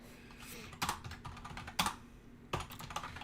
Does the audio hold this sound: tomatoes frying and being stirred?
no